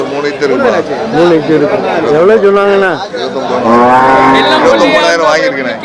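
Cattle moo loudly and repeatedly at the busy Melapalayam cattle market in Tamil Nadu, long drawn-out calls rising and falling over the steady chatter of traders talking close by.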